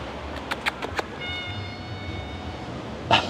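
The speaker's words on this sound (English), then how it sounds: "Meow meow." A cat meows several times in short close calls, then one louder meow near the end, on a tropical island trail with faint ambient noise.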